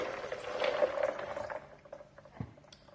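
Filtered water is poured into an Optimum 9200A blender jug for almond milk, a soft, splashy trickle of liquid that fades after a couple of seconds, with a light knock near the end.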